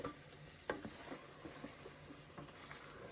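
Spices stirred in a pan of hot oil for yakhni biryani, a steady low sizzle broken by scattered scraping clicks of the spoon against the pan, close and fairly quiet.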